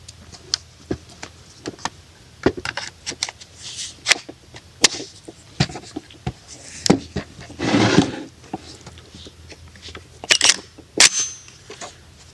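Rifle shots from a Springfield Armory Hellion firing 77-grain reloads, a string of sharp, loud cracks at uneven intervals, some in quick pairs, with a few rapid bursts near the end.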